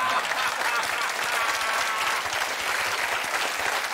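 Steady audience applause from a studio crowd at a comedy talk show, dense clapping held at an even level for the full four seconds, with a faint murmur of voices underneath.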